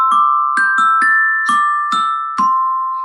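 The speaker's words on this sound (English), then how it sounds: "now I'm going to do it on a glockenspiel." Glockenspiel struck with mallets, seven bright ringing metallic notes in a simple rhythmic phrase, each decaying slowly, close and clear with no talking.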